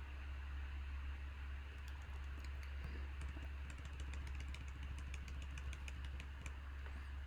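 Quick, light keystrokes on a computer keyboard typing a password on a Mac, a steady run of clicks over a constant low hum, close and fairly quiet, with no talking.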